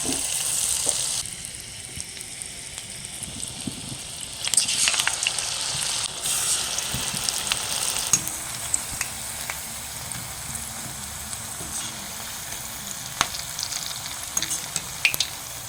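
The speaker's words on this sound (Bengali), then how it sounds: "একটা করে পেঁয়াজ নিয়ে এই যে ব্যাটারের মধ্যে এইভাবে চুবিয়ে নেব। এইভাবে নিয়ে গরম তেলের মধ্যে দিয়ে দেবো।" Battered onion pakoras frying in hot oil give a steady close bubbling sizzle throughout, with brief brighter crackles as the pieces go into the pan and no talking.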